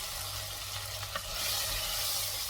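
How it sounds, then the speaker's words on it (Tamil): Tomatoes sauté in a pan for a sambar, making a continuous close sizzle and hiss with one faint stirring tap near the middle. No voice is heard. "தக்காளியோட தோல்லாம் அப்படி கொஞ்சம் சுருங்க ஆரம்பிக்குது. இன்னும் கொஞ்சம் நேரம் வதக்கணும்"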